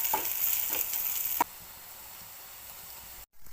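Garlic fries in hot oil in a pan for bitter gourd stir-fry, a steady sizzle with a few sharp scraping stirs early on, then a quieter continuous hiss before a brief cut.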